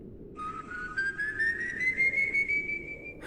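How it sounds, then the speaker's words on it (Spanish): A long, thin, eerie whistle slowly rises in pitch over steady wind on a gusty night, sustained and clear above the rushing air. "Un silbido, largo, sutil, con una melodía imposible de describir."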